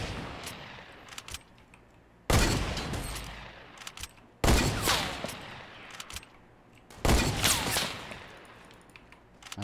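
Bursts of gunfire from the video game Fortnite, three loud sustained volleys of rapid shots separated by quieter gaps with faint scattered pops, no talking.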